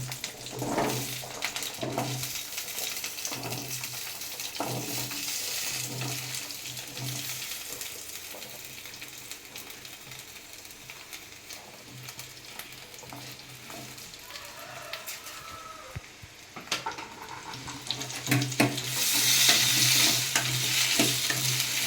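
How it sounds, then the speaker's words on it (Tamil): Onions frying and sizzling in oil in a pan for a mutton and chicken gravy, with steady close crackle, periodic stirring scrapes and a louder sizzle surge near the end, no talking. "தேவையான அளவு ஆயில் ஊற்றிடலாம் வெங்காயம் வதக்கறதுக்கு."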